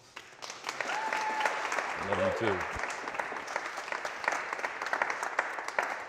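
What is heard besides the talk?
applause for the speaker's bride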